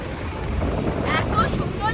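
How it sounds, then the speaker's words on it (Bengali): Steady sea wind rushing at Mandarmani beach with rumbling gusts buffeting the microphone, a constant broad roar with faint sounds of the sea beneath. "সুন্দর বেশ ভালো হাওয়া দিচ্ছে"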